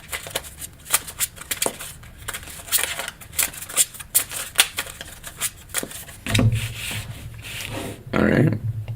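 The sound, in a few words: shuffling a deck of tarot cards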